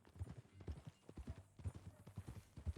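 Horse hooves clip-clop in Red Dead Redemption 2, a steady rhythmic trot of close, distinct hoofbeats with no talking over them.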